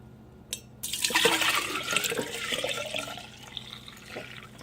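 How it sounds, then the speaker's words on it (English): Kombucha mushroom tea poured into another container, a loud, steady liquid splash and trickle that begins abruptly and runs on for a few seconds, with fizzy, bubbly texture throughout and no talking. "I am going to get another container where I'm going to pour this in"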